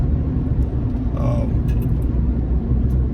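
A Jeep JK's steady road rumble and wind noise fill the clip, a continuous drone of freeway driving with a faint brief chirp partway through.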